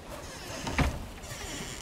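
A boar in the video game Valheim grunts once, a short low squeal-like call rising briefly over steady in-game background ambience, with no talking.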